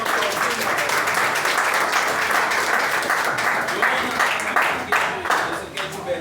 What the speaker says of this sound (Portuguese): Vamos lá, vamos aplaudir.